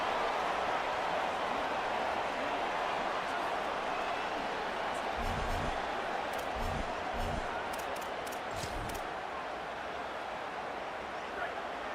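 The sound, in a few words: stadium crowd noise in video game College Football 27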